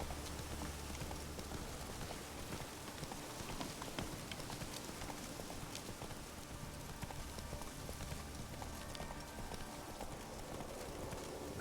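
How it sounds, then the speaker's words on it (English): Hooves clip-clop steadily as the horse Roach gallops in The Witcher 3, a fast, even rhythm running the whole time under rain-like game ambience. "Not so fast, Roach."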